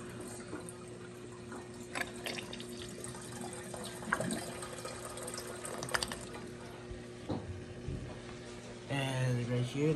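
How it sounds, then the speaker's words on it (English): A miniature toilet flushes and its tank refills as a small pump keeps running, giving a continuous quiet trickle of water with a few brief clicks and knocks and a louder gurgling burst near the end, alongside some low talk. "Let me give it a flush."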